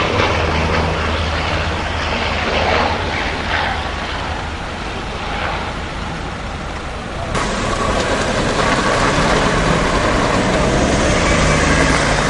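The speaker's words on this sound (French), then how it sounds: "l'incendie n'est sans doute pas éteint puisque nous entendons des vols d'avions" Aircraft engines drone overhead during a forest fire at Sanguinet, a continuous loud broadband roar that swells and thickens in the second half as firefighting planes pass, with no speech.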